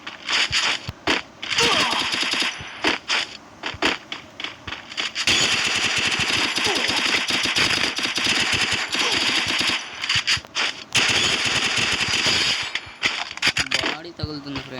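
Rapid automatic AUG rifle fire in the mobile shooter Free Fire Max comes in long, dense bursts with short pauses between them. The shots are loud and close, with game effects and occasional voice underneath.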